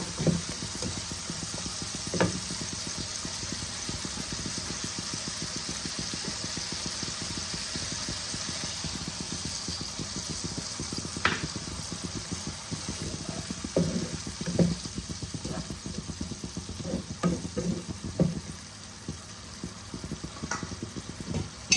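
Spices with Kashmiri red chili powder and a little water stir-fried in a pan, with a constant wet sizzle and steady ratcheting scrapes of a spatula over a long stretch, close and even.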